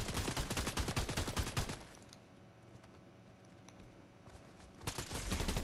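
Gunshots in the Fortnite video game come as a rapid, loud, steady burst of automatic fire, then a quieter stretch, then another rattling volley up close.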